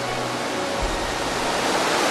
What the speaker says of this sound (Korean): 여름에는 이곳 협곡에 100여 개의 폭포가 생긴다 합니다